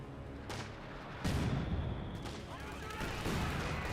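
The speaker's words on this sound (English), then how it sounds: "Scott's Barrage trying to hit that MG42" Artillery barrage in Company of Heroes 2, shells aimed at an MG42 position, with several heavy booming impacts spaced across a dense battlefield din. A speaking voice runs underneath.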